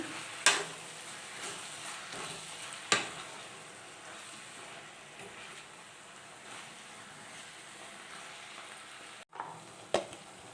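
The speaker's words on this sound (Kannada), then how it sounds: "ನೀಟಾಗಿ ಒಂದು ಮೀಡಿಯಮ್ ಫ್ಲೇಮಲ್ಲಿ 5 ಮಿನಿಟ್ಸ್ ಈ ಥರ ಮಿಕ್ಸ್ ಮಾಡ್ಕೊಂಡು ಫ್ರೈ ಮಾಡಿ." Fenugreek leaf dal mixture frying on a medium flame, a continuous soft sizzle broken by several sharp spoon knocks and stirring scrapes against the pan, close by, without speech.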